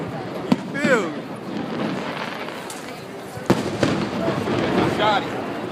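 Fireworks go off outdoors, with sharp cracks and bangs scattered over a few seconds, some loud and close, while people talk and chatter throughout.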